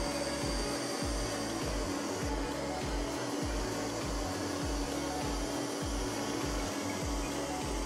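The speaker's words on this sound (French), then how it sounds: "sur le tapis, il vient d'augmenter la puissance d'aspiration" An Ecovacs Deebot T8 robot vacuum runs on carpet at raised suction power, giving a steady loud whirring hum with a rhythmic pulsing low drone throughout.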